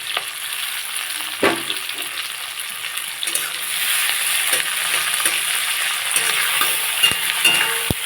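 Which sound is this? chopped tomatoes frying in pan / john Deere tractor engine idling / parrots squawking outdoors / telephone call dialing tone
chopped tomatoes frying in pan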